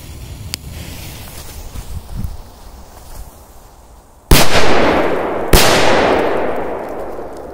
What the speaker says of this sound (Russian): Воу, две мощные петарды.